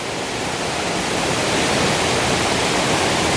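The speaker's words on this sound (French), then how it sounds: "Petite cascade de 174 mètres." A 174-metre waterfall roars as a steady, dense broadband rush, loud and unbroken throughout with no voices.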